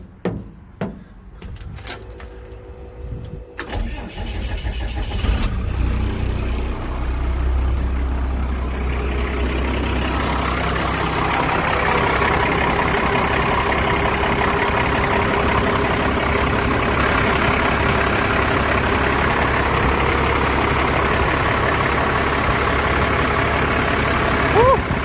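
A school bus engine is started after a few clanks and a jangle of keys, then settles into a steady, close idle hum that runs on for the rest.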